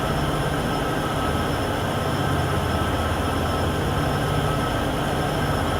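A Union Pacific train runs on the Cheyenne–Laramie line in Train Sim World 6, giving a steady, loud, continuous rumble and engine drone with no break and no voices.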